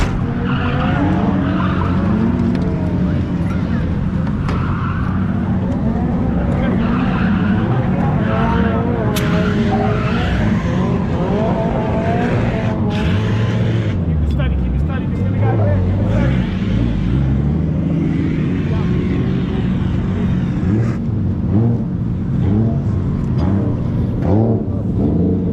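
A car drifting laps at Nishi Short during Fall Matsuri skids with long tire squeals and revving engine noise, loud and continuous, with other cars and voices mixed in.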